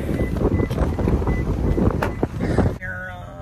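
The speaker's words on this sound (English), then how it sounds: "It's so windy today." Strong gusty wind at a gas station buffets the microphone with broad low rumbling, and a voice is heard under it before it briefly drops away.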